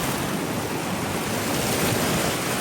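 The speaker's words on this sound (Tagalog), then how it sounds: "Malakas sa alon dito." Strong sea waves crash and wash on a tropical beach, a loud continuous roar of surf heard close with no voices.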